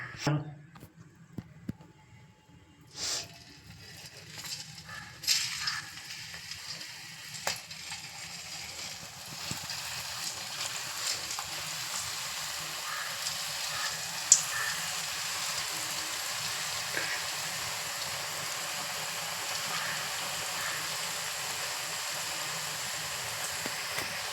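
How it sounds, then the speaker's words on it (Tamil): Ribbon pakoda dough is pressed through a mould into hot oil on a low flame, giving a steady, fairly faint sizzle of frying with a few sharp clicks near the start. "எண்ணெயும் காஞ்சிட்டு போட்டு பூஞ்சி எடுத்துடுறேன்."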